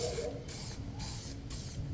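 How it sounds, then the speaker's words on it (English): Bursts of aerosol spray paint hissing from a can, three or four short sprays in a steady on-off rhythm, close and fairly loud, with no talking. "So spray painting we're doing,"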